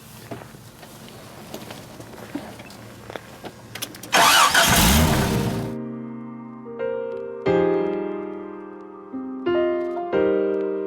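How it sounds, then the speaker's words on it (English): A buggy engine cranks and catches with a loud near roar after a stretch of low rumbling, then settles into steady tonal hums that rise in separate pulses as it pulls away. "Seems fitting we take the buggy around and see what's going on."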